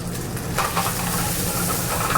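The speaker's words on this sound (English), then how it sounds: "So we're going to heat this up. Love that sizzle." Food heating in a pan sizzles with a steady frying hiss, continuous and moderately loud, with faint stirring scrapes.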